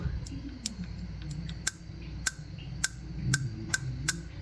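Sharp, faint electrical snaps crackle at irregular intervals from the ignition coil of a 1932 Austin 7 Saloon, over a low mechanical hum, each pop brief and crisp.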